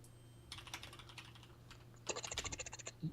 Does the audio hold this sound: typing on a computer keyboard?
yes